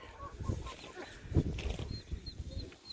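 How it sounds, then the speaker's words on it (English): Chickens on a farm cluck in soft, scattered bursts, with a few faint higher bird calls above a steady outdoor background. "The ducks and the chicken."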